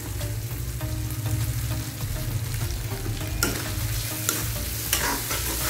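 Okra frying in a karahi sizzles steadily while a spoon scrapes and stirs, with a few sharper clatters near the end; no talking.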